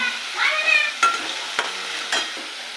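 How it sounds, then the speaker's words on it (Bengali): Banana flower kofta masala sautéing with cumin, chilli, turmeric and coriander powder, a soft steady sizzle broken by a few sharp spoon scrapes and knocks against the pan, with a brief high whine near the start. "জিরে লঙ্কা হলুদ আর ধনে গুঁড়ো দিয়ে এটাকে কষাবো"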